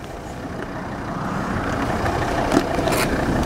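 A used Volvo XC90 sits with its engine running at a car dealership, a steady low idle rumble that rises slightly and continues throughout with a few faint knocks.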